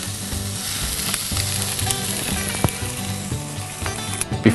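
Lobster tails sizzle steadily on a grill, a close, continuous frying hiss with small pops and crackles throughout and a sharper burst near the end.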